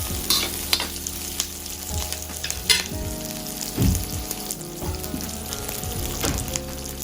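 Veg Manchurian stir-frying in a pan after crushed pepper goes in, with steady loud sizzling and frying throughout and occasional scraping strokes of stirring, no voices.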